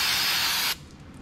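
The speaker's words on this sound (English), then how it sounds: "brake cleaner is great for back here on the engine where you're getting all your chain lube" Brake cleaner hisses in a loud, steady spray onto the back of a kart engine coated in chain lube, then cuts off abruptly, leaving quiet room noise.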